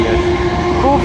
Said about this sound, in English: As the last train of the day, 455, 731 as well